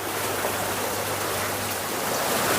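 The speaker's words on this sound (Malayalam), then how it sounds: "ബാക്കിലത്തെ ഫിൽട്ടർ ചെയ്തിട്ട് വെള്ളം ടാങ്കിലേക്ക് തന്നെ വന്ന് ഇങ്ങനെ വീണോളും" Filtered water pours steadily back into a home fish tank as a small decorative waterfall, a continuous close splashing rush with no voices.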